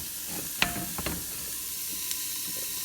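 Stew meat browning in a hot pan, a steady dense sizzle with a few sharp pops and clicks from stirring, close and continuous with no voices.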